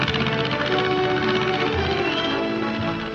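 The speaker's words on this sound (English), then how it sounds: "the sound of an airplane can be heard. A single motor ship flying low." A low-flying single-engine airplane, the Spirit of St. Joseph, droning steadily overhead near the village of Mosquero among plateaus and canyons, a loud continuous engine hum with no talking.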